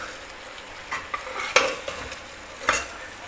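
Yogurt is stirred and fried in a pan for milk korma: a soft, close sizzle with a few sharp clinks of a spoon against the metal over about three seconds.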